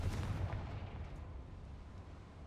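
A Confringo fire spell detonating in a Harry Potter video game, heard as a low rumbling blast that trails off slowly, fairly faint and with no other sounds.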